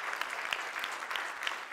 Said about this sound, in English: One round of applause for Don last week